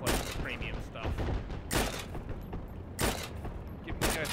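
Covering gunfire in Heroes and Generals comes as bursts of rapid shots at moderate distance, several volleys separated by short pauses, with softer mechanical clatter between them.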